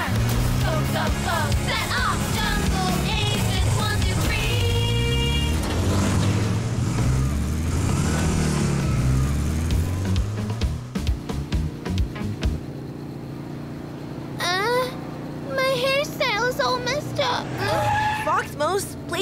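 A cartoon car races along fast, engine revving and tires squealing in a dense, loud rush, later joined by sharper skids and whooshes, with music and animated voices over it.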